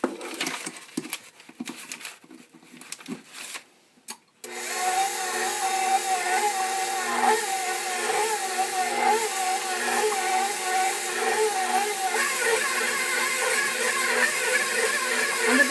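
A stand mixer with a dough hook starts up and kneads Italian Easter bread dough. After a few seconds of quiet handling noises, a steady motor whir settles into a continuous, even drone.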